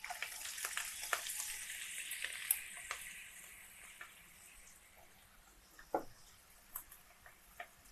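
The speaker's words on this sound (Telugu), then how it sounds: "ఇప్పుడు దీన్ని బాగా ఆకులంతా కూడా బాగా ఈ నూనెలో వేగేటట్టుగా చూసుకోవాలి బాగా" Gongura leaves frying in oil, a faint continuous sizzle under scattered light ticks and stirring clicks, quiet and close.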